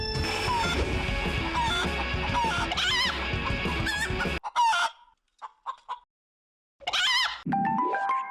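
Several toy chickens clucking and squawking together in a busy overlapping chorus during a toy chicken race, then scattered bursts with brief silences before the clucking resumes.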